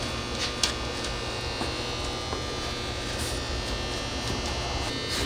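A UVC yoga mat sanitizer machine runs steadily with its rollers feeding a mat through, giving a constant close electric hum and buzz with no break or talk.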